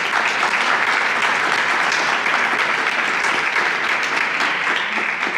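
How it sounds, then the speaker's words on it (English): Steady audience applause at an awards ceremony and anniversary celebration, a dense, even wash of many hands clapping throughout, with no talking over it. "Let's give them a round of applause."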